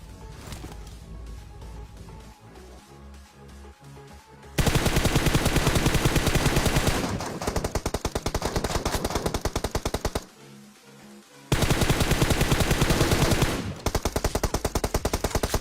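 Loud, sustained automatic gunfire fills a video game battle, with dense rapid bursts, a brief lull, then renewed heavy firing up close, with no talking.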